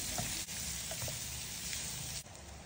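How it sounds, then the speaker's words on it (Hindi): Steady, loud sizzling of sliced onions frying in a hot pan on high flame, a continuous crackle with faint stirring, close by and without talk. "प्याज को भुने हाई फ्लेम पर तीन मिनट के लिए"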